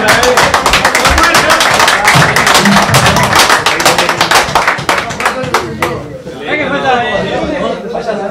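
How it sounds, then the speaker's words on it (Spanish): Awards ceremony audience at an amateur football league prize night, clapping continuously and loudly in a dense crowd with chatter and shouts mixed in, the applause thinning toward the end. "Fuerte el aplauso para Mora."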